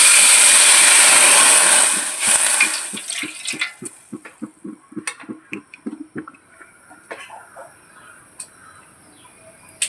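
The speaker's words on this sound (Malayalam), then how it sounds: "അപ്പം ആദ്യം നമുക്ക് വെള്ളം ഒഴിച്ചു കൊടുക്കാം." Water pours into a cooking pot set on a stove, a loud continuous splashing stream for about two seconds, followed by a series of sharp taps and clinks of the pot and utensils.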